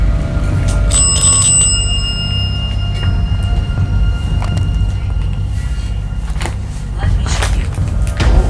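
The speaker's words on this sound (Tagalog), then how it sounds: "The dead bell's going off." A ghost-hunting bell device rings out suddenly inside a reportedly haunted hospital in Taiwan. A bright metallic ding sounds close, then its tone lingers and fades under low room rumble and shuffling movement.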